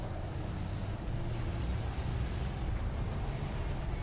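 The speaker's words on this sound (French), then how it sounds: "J'ai l'impression d'entendre des moteurs qui viennent d'ailleurs," Low, steady rumble of tank engines in a French AMX-50 heavy tank video game, a dense continuous drone filling the whole stretch with no talk over it.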